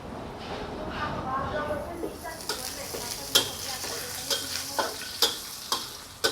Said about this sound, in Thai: หั่นกระเทียมเสร็จก็ใส่กระทะได้เลยนะคะ